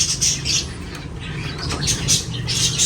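Bird calls in an aviary, a few close, sharp squawks and chirps in short bursts over a low steady background hum.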